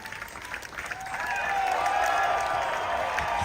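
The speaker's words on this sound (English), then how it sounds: "Why are they cheering? Oh, of course." A live concert audience breaks into applause and cheering, starting as scattered clapping and swelling into a loud, sustained crowd roar with whoops, while a voice talks quietly in the background.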